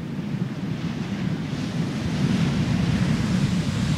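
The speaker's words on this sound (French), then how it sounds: "pour la dernière fois, regarder un peu les vagues" Ocean waves break steadily on a shore as a continuous rolling wash of surf, with wind rumbling against the microphone and no voices.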